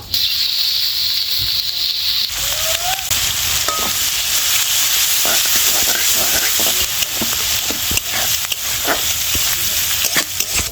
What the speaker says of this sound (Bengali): এইবারে ওই তেলের মধ্যে কিছু পেঁয়াজ ভেজে নেব